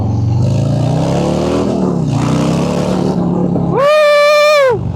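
A friend's motorcycle runs steadily with a low, layered engine drone, then near the end a brief high, tonal whine swells and fades, loud and close.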